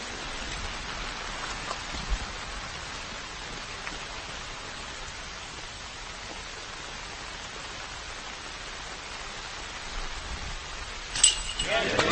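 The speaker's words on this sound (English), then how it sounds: "the rain has picked up and become more steady" Steady rain falls across an outdoor disc golf course during a tournament round, a continuous soft hiss with a few faint clinks and a slight swell near the end.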